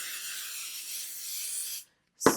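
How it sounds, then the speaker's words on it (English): Spray adhesive from a Walmart can is hissed onto foam for a sewn bag, a steady close airy spray lasting under two seconds, then a short pause and a brief bump. "you can add some spray adhesive if you like"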